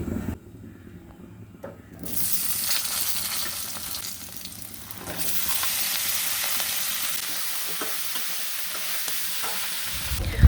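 Fried potatoes and crab pieces dropped into hot oil tempered with cumin and a bay leaf: a quieter stretch of pan noise first, then a loud burst of sizzling that holds steady with light stirring, close and without speech.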